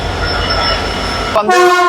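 A train rumbles steadily nearby while arriving at a station platform, then a loud horn blast sounds abruptly near the end.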